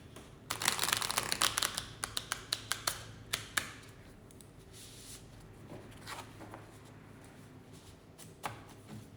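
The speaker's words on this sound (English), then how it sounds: "Let's just shuffle once more and then clear the deck." A deck of oracle cards riffled and shuffled up close, a burst of rapid crisp flicks followed by scattered soft slaps and clicks.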